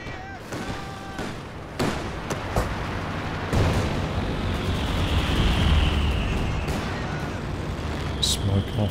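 Mortar shells explode in a Company of Heroes 2 4v4 battle, several sharp booms early on followed by a dense rumble of continuous gunfire and blasts, with someone talking over the battle.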